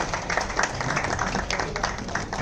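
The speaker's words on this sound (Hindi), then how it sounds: "जोरदार तालियां हो जाए सर।" Dense clapping from an audience at a fashion and talent audition event, continuous and moderately loud throughout.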